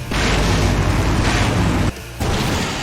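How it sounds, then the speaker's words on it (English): A loud, booming explosion in the video game Full Throttle Remastered roars with dense rumble, cuts off abruptly and then resumes as a lingering low rumble. "Now that's an explosion, ladies and gentlemen."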